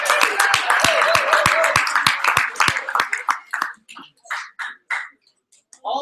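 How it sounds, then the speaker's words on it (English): A small audience claps in a fast, regular rhythm that thins into scattered, uneven claps before trailing off, with voices audible over the opening. "let's give number 1 a huge big round of applause"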